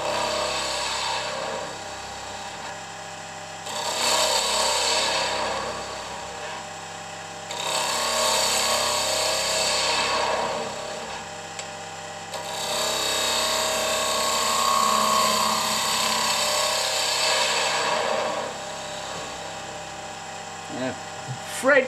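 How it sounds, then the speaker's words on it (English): Wood turning on a lathe with a 1/2 inch detail spindle gouge, shaping a small angel and bell ornament: four bursts of rough scraping cutting noise over a steady motor hum, separated by short pauses. "this is a 1/2 inch detail spindle gouge"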